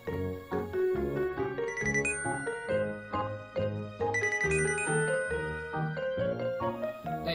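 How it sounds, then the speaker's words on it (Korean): A website's new-inquiry notification alert plays as a bright, repeating melodic chime, ringtone-like tones sounding loud and clear for several seconds with no speech. "이렇게 문의를 하시게 되시면 알림 소리가 나옵니다."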